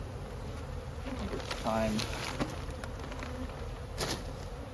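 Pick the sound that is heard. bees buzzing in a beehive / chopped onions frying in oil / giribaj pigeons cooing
bees buzzing in a beehive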